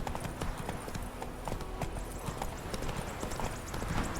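Roach, Geralt's horse in The Witcher 3 video game, clip-clops along at a steady walking pace, hoofbeats close and clear over a busy outdoor ambience.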